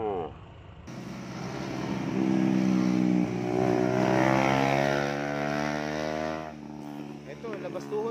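A motorcycle engine revs steadily during riding practice, a buzzing tone climbing in pitch and holding loud for several seconds before easing off, close and prominent after a brief quieter start.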